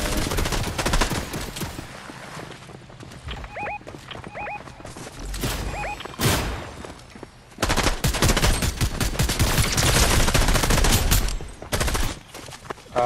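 Turret gunfire in the video game Fortnite, long loud bursts of rapid automatic shots with brief gaps and a few short electronic chirps between volleys.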